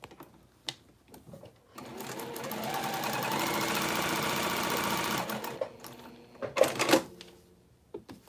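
A sewing machine runs a steady stitching burst of about three seconds on a fabric scrap after being rethreaded, with quieter handling clicks and rustles before and after.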